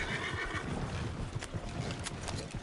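A horse in Red Dead Online whinnies over steady background noise, with faint hoof clip-clops and rustling, and no talking.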